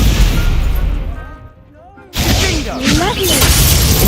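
Stupefy spell cast in a Harry Potter video game, a loud blast with shattering, crackling bursts that fade into a brief lull, then a second burst amid ongoing combat noise, with a voice present.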